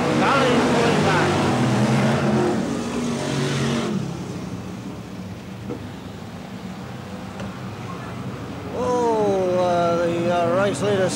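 BriSCA Formula One stock cars racing at Kings Lynn in 1994, a steady roar of engines under continuous commentary, with a rising whine from a passing car near the end.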